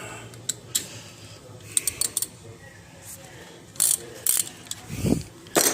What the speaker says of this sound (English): I'm gonna crack this bleeder. This is the 11mm.